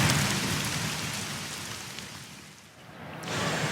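Rain falls steadily in a dense, loud hiss that eases slightly toward the end before picking up again, with no voices.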